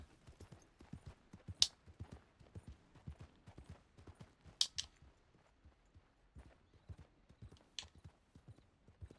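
Video game horse hooves clip-clop in a steady, brisk rhythm, fairly quiet, with a few sharper clacks standing out along the way.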